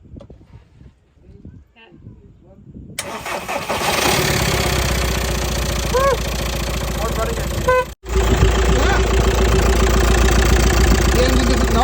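A VW T5 1.9 TDI diesel engine, just repaired with new crankshaft bearings, cranks briefly, fires up and settles into a loud, steady idle, with a short break partway, while someone speaks nearby.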